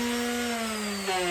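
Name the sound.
hand sander sanding pipe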